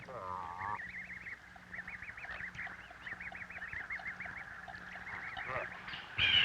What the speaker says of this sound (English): Attended by the adults, the goslings of Canada geese roam freely in search of food.